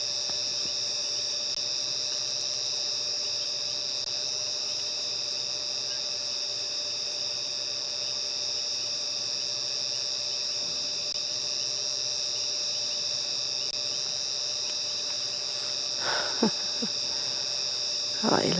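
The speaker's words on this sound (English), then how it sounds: "That very steady, high-pitched hum in the background, that is the cicadas calling." Cicadas call in an African safari evening, forming a steady, high-pitched, unbroken hum that fills the background, with a couple of brief faint knocks near the end.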